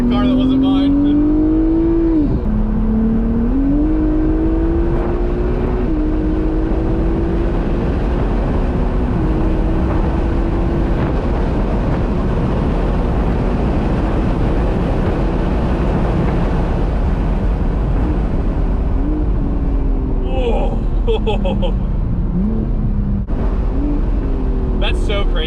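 A rally car in a Titan run driven hard around a rented racetrack, its engine droning loud and steady with rising and falling revs through turns, with people talking over it throughout.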